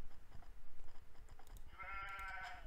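A sheep in the Age of Empires II video game bleats once with a clear, wavering cry, following a stretch of quiet clicks and small game sounds.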